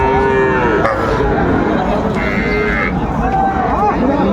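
A bull calf moos several times amid a noisy outdoor crowd, with people chattering and haggling in the background at a busy cattle market in Ambari, Dinajpur.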